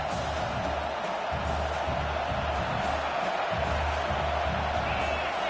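A stadium crowd at a football game roars in a loud, continuous wash of noise, with a deep rhythmic rumble pulsing underneath throughout.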